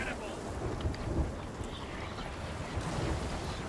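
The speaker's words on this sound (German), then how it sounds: "Es regnet übrigens." Steady rain hisses with low rumbling thunder rolling underneath in the video game Sea of Thieves, a dense, continuous wash of noise that never lets up.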